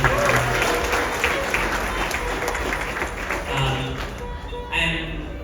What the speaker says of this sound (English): Give a round of applause for Guruji.